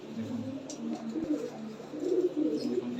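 Tumbler-type playing pigeons coo low and steadily in a soft, rolling drone that swells toward the end, with no voices over it and a faint ambient hiss behind.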